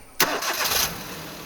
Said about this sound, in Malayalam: വാഹനം സ്റ്റാർട്ട് ചെയ്യാൻ പോവുകയാണ്.